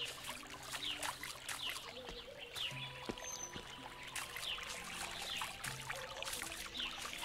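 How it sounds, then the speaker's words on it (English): Footsteps splashing through water in a medieval RPG video game, a run of soft sloshing steps and trickles with faint tonal music underneath, no talking. "What's happening if you are walking the water? You have different sounds."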